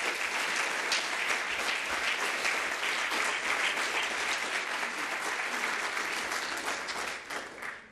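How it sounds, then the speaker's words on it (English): An audience at a keynote gives a long, sustained round of applause, dense and even throughout before tapering slightly at the very end, with no voices over it. "I think we should give them a real good round of applause"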